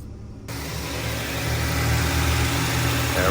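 A replacement engine in a 2012 Dodge Journey starts and runs steadily with a mid-pitched hum, loud and close for a few seconds, its drone rising slightly over time and no one talking.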